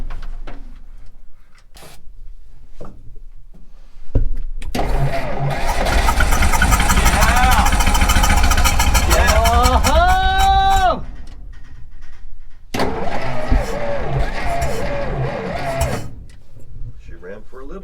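A 1957 Jeep FC170 cab-over 4x4 cranks and catches, running roughly for several seconds before dying, then cranks again; someone talks over and between the attempts.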